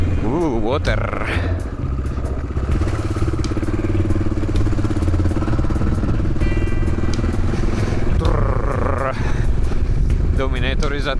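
Honda NX650 Dominator motorcycle ridden on a high mountain trail, its single-cylinder engine thumping steadily and close throughout while a rider talks over it at times.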